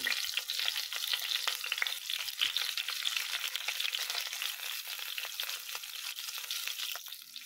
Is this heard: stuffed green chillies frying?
yes